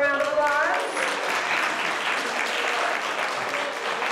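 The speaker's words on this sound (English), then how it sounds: "Please give them a round of applause." Steady audience applause at a Tri-M senior ceremony for music students, a full crowd clapping continuously at moderate loudness, with a brief voice at the start.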